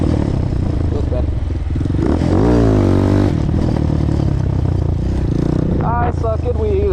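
A Honda Hawk 250 motorcycle revs hard during a wheelie attempt, its engine loud and close with pitch rising and falling and a clattering edge throughout.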